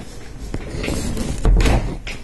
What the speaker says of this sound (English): Let me open the door for this cat.